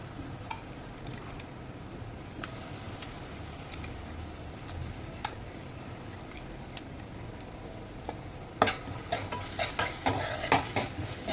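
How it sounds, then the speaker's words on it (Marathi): Ginger, garlic and chili paste frying with browned onion in a pan for a chicken masala, with a soft low sizzle and sparse utensil taps that become a quick run of scraping clicks near the end. "आता आपण जी मगाशी आलं लसूण आणि मिरचीची जी पेस्ट टाकली आहे ती परतून घेऊया."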